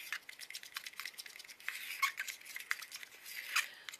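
Pale pink paint being stirred and mixed for a crackle finish: soft, continuous scraping and swishing strokes with light tapping, close and fairly quiet, with no voices.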